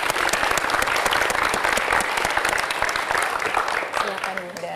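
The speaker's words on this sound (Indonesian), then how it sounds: "Tepuk tangan sekali lagi." A studio audience at a television talk show bursts into sustained, dense applause that fills the room, with voices mixed in and the clapping thinning near the end.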